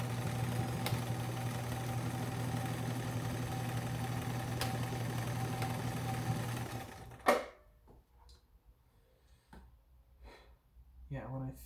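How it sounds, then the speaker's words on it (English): A sewing machine runs steadily at close range, stitching a ham radio antenna pouch in one continuous whir before stopping abruptly, followed by a few soft fabric-handling clicks and quiet sounds. "I'm going to have to just sew some and then come back and do those back tacks"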